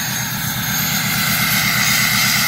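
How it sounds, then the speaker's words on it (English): A 2005 Ford F250 Powerstroke diesel, lifted 4x4, holds a high idle with a loud, steady, throaty rumble from its exhaust, close by and unbroken. "You're hearing the high idle."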